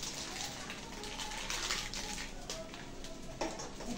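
Kewra water and rose water are poured into a pot of biryani, giving a soft, continuous trickling splash that stays quiet throughout.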